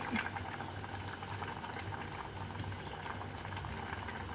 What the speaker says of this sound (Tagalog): Let it boil for 2 minutes.